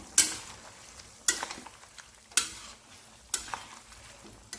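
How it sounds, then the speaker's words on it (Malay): Duck sauce thickened with tapioca starch being stirred in a pan for sweet and sour duck with calamansi, four evenly spaced sharp scrapes of a utensil against the metal about once a second over a quiet sizzle. "Okey, masukkan tepung kanji. Kita gaulkan lagi ya."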